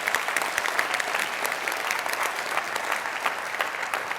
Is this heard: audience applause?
yes